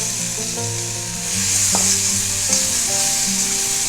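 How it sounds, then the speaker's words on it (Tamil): Ground paste hits hot oil in a home kitchen pan and sizzles steadily while a spoon stirs it, a continuous close frying hiss with occasional scraping clicks and no speech. "நம்ம அரைச்ச விழுதை சேர்த்துடலாம்"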